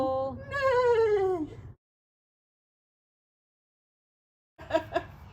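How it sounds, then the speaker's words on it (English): A baby goat on a farm lets out a long, wavering, high bleat, then after a silent pause a second, shorter, shakier bleat, both close and clear. "So how old are your baby goats?"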